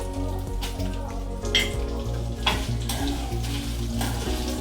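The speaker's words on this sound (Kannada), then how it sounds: "ಒಣಮೆಣಸಿನ್ಕಾಯಿ ಚೆನ್ನಾಗಿ ಹುರ್ಕೋಬೇಕ್ರಿ" Dry red chillies (Guntur and Byadgi) and a whole bulb of garlic fry in a pan, giving a steady close crackling sizzle with occasional stirring clatter and no talk.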